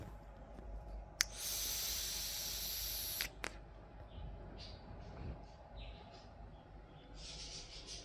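A long, steady hiss of vapor being exhaled from a Justfog Minifit e-cigarette, close up, lasting about two seconds. It is followed by softer breathy puffs and faint rustling.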